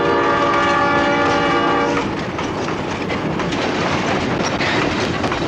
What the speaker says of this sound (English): 20 or 30 car train would go over.